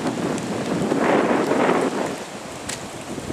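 Strong gusts roar during a storm on a hike to Wairere Falls in the Kaimai Range, a loud broadband rush that swells in the middle and buffets the microphone, with no talk.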